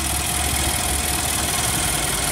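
The 5.6-liter V8 of a 2013 Infiniti QX56 idles under the hood with a steady, smooth hum and hiss, close and even, with no talking.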